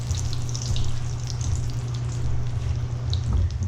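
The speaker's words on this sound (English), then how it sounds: "We're going to let them cook in the oil until they are golden." Potato tots frying in hot oil, a continuous dense sizzle with scattered crackles and a brief louder bubbling flare near the end, close and steady.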